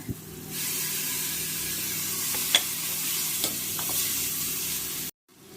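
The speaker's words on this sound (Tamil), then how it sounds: "இப்போ நம்ம மல்லி இலை போடுவோம், பச்சை மிளகாய் போடுவோம்." Coriander leaves and green chilies being stirred into garlic frying in oil for an Ambur-style mutton biryani, a loud steady sizzle and hiss with a few spoon taps against the pan, close, ending abruptly, no voices.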